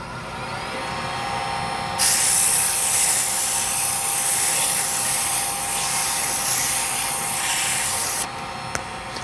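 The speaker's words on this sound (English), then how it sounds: "I'm going to turn the lathe on, and then I'm going to kind of pull this sandpaper towards myself in order to sand" Wood lathe spinning a turned pen blank while sandpaper is pressed against it, a loud, steady rushing hiss over a low motor hum that runs about six seconds and then cuts off abruptly.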